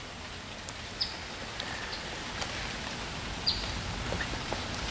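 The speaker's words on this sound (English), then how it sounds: "A lot of rain recently." Steady rain falls outdoors as a continuous soft patter of drops on surfaces, with a few faint bird chirps far off and no talking.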